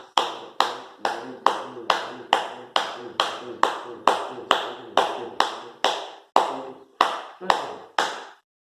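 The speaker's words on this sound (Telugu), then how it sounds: "21 టైమ్స్ చప్పట్లు కొట్టాలి" Sharp hand claps in a steady, even rhythm, about sixteen of them, with a brief pause near the end before the last few.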